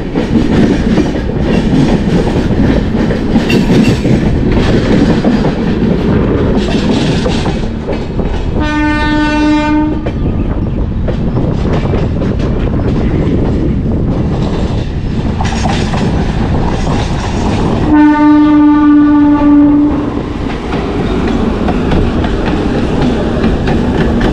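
The Tamil Kasi Sangam Express running from Perambur to Varanasi, heard as a loud, continuous rumble and rattle of wheels on rails, with two long horn blasts sounding partway through.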